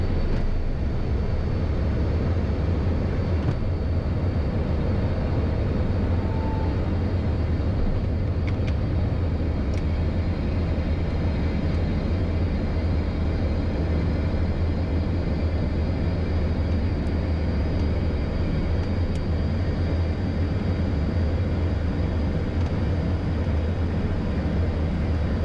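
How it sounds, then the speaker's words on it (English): Light aircraft, lightly loaded, rolling down the runway for takeoff: a steady, loud engine drone with broadband rumble running continuously from start to finish, without any talk. "Pretty short takeoff roll on this time."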